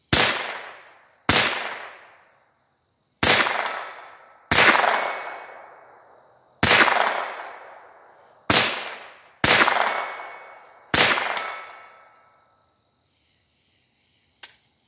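Rifle shots fired at night during LPVO scope testing, eight sharp loud cracks at irregular intervals, each with a long ringing decay, then a faint final metallic hit.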